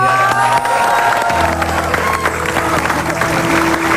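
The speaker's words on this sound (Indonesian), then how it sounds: "beri tepuk tangan dong" Audience applause and cheering at an Indonesian TV studio show, a dense, loud wash of clapping from a live crowd welcoming a guest, sustained for several seconds with a low background hum and scattered voices.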